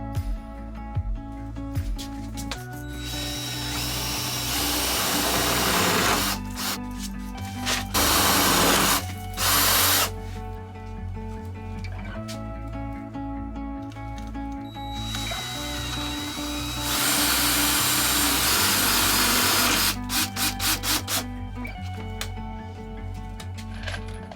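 A power drill drives self-tapping screws through wood into metal studs during an insulated trailer wall build. It gives several loud, close bursts of whirring with short pauses and clicks between them, and no one talks.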